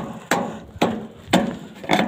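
Four sharp hammer knocks strike downpipe fittings on a rainwater tank system. They are spaced roughly half a second apart, close and distinct, and each decays quickly.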